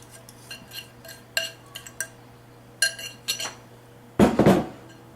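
Cheesecake crust mixture poured and scraped into a baking pan, giving a series of light clinks and taps of utensil on pan, then a louder dry rustling pour near the end.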